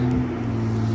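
A Toyota Land Cruiser 80 drives through thick spring mud, its engine a steady, rumbling low drone held at constant revs, heard at moderate distance.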